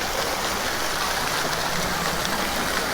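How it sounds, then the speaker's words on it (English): Decorative waterfalls at an outdoor water park pour in a steady, loud, unbroken rush of splashing water that fills the whole moment with no voices. "Got all the theming here, all the waterfalls."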